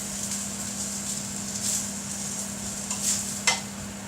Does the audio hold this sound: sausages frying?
yes